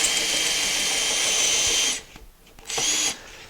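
A handheld drill whines steadily as it squares the end of a wooden pen blank, cutting loud and close for two seconds, pausing briefly, then spinning up again for another short burst.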